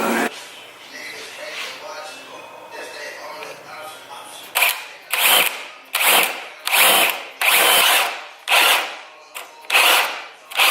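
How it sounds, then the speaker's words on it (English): A drill bores a hole for a radiator fan switch sensor during fabrication of a tucked radiator setup, in a run of about eight loud, close bursts separated by short pauses, after a quieter opening stretch. "So the hole I was drilling is this one right here."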